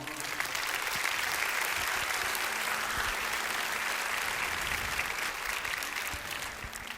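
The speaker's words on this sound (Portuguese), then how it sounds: "Glória a Deus, aplauda ao Senhor" A church congregation applauds during an evening service, a sustained, even roar of many hands clapping that holds steady for seven seconds before easing slightly at the end.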